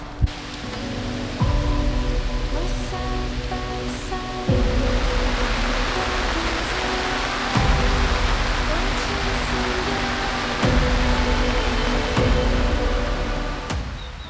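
Steady rain falls over a mountain campsite on Oahu, a dense even hiss close by, with soft low thuds recurring every few seconds underneath.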